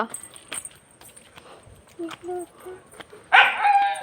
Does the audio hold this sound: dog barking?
yes